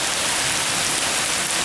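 Steady rain pours down on a rainy night during a thunderstorm, heard from beneath a shade tree outdoors; a dense, continuous hiss of drops falls loud and close throughout, with no voices.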